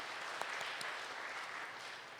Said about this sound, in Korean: 진심으로 감사드리는 우리 박수로 인사하겠습니다